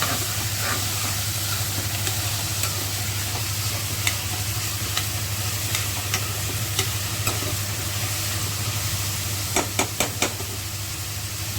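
Onions sautéing in a pan for a tomato-free mutton mushroom gravy: a continuous loud sizzle and hiss, with sharp spatula scrapes and taps scattered through it, clustering toward the end.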